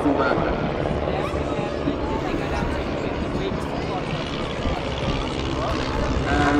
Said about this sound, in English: breaking from right to left in just a moment's time is the Sopwith Triplane, flown by Gordon Bradley.